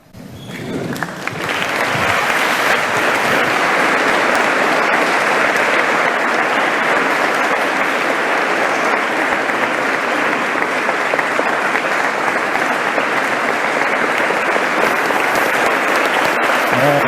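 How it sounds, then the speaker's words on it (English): Sustained applause from a chapel audience standing to welcome a guest speaker, loud and dense clapping that swells quickly and holds steady throughout with no talk over it. "Please stand to greet my friend Kyle Bryant."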